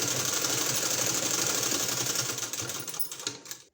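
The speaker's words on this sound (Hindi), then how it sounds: "यहाँ एक सिलाई और लगाना है" A sewing machine stitches a sleeve with a steady, close mechanical whir and rapid needle chatter, then slows and stops near the end.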